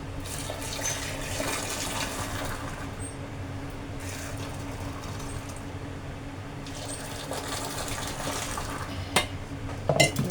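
Milk tea pulled and poured back and forth between steel vessels to froth it, a steady near rush and splash of liquid running throughout, with faint clinks of metal cups near the end.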